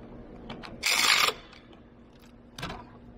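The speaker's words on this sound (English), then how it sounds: "Go ahead and tighten down those radiator bolts." Ratchet wrench tightening the radiator bolts on a car during cooling system work, heard as a loud close burst of rapid clicking ratcheting, then a shorter second burst after a pause, over a steady low hum.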